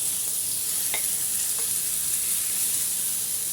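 Chicken shawarma sizzling in a lightly oiled grill pan, a steady close frying hiss with a couple of faint clinks over it.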